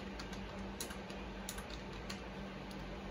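Quiet typing on a computer keyboard while entering text on a faucet rewards website, with faint clicks spread steadily over a low background hum.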